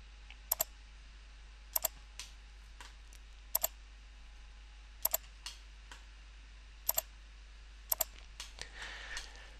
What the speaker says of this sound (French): je clique une première fois, et puis je clique une deuxième fois